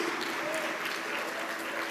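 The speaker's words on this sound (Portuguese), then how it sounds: "dê um aplauso ao Senhor" A church congregation applauds during a sermon, a dense, continuous patter of many hands clapping at moderate volume throughout, with no talk over it.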